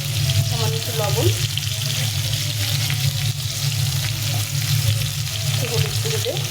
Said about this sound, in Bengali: হলুদ করে দিয়ে আলুটাকে ভালো করে ভেজে নেব, লাল লাল করে ভেজে নেব